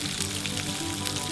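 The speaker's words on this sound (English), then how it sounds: "Oil in the pan now. So in with our onions." Onions and garlic sizzle and fry in hot oil in a pan, a steady, close crackling hiss with no voices over it.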